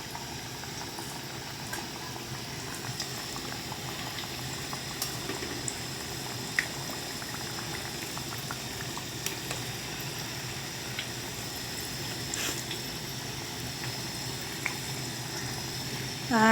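Samosas deep fry in hot oil, a steady close bubbling hiss that runs evenly throughout with faint small clinks, followed by a brief rustle at the very end.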